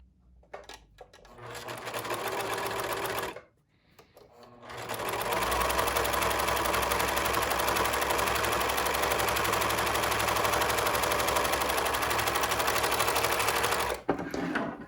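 A sewing machine stitches the lining of a cloth face mask in two runs, a short burst and then a long steady whir of close, loud, rapid stitching with a pause between.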